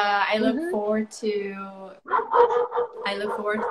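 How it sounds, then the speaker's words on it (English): A dog barks and yips close to the microphone in several quick bursts, loud and sharp, with a person talking over and between the barks. "That's him barking."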